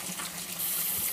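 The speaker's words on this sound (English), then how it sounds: "we want to get some cold water" Cold water from a kitchen tap runs onto cooked pasta in a strainer, a soft steady gush that grows slightly louder midway, with no talk.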